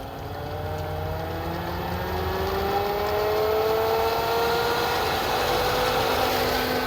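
A pool pump motor runs steadily at 3,000 RPM, giving a continuous close, loud hum with rising tonal whine and broadband rushing noise throughout.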